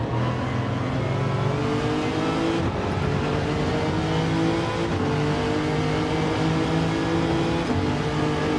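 A race car engine in Gran Turismo 7 drones loud and close while overtaking, its pitch rising steadily through the gears with brief dips at each shift and no talking.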